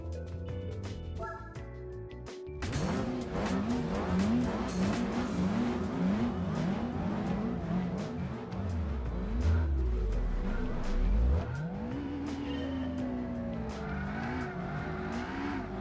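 Race car engine in Gran Turismo 4 revving hard and climbing through gears, with tires squealing and a deep rising engine sweep, loud and continuous throughout, no talking.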